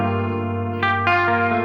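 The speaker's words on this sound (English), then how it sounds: "it's the EarthQuaker Devices C Machine. And man, this is just like honestly the best chorus pedal I've ever used" Electric guitar chords played through an EarthQuaker Devices C Machine chorus pedal, a sustained lush warbling tone followed by two fresh strums that ring out with shimmering modulation.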